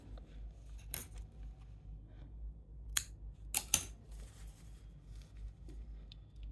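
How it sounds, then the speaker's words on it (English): Scissors snip through yarn in a few sharp, crisp cuts, close up and quiet, with soft handling rustle in between. "Now I will cut my yarn."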